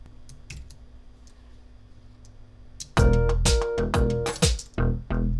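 Clicks on a computer while working in music software, a quiet start followed by a busy run of close, sharp clicks and taps.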